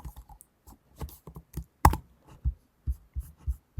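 Keys on a computer keyboard are tapped in short irregular bursts while a line of code is entered, with one louder clack midway. The clicks are close and crisp, separated by silent pauses, and no one speaks.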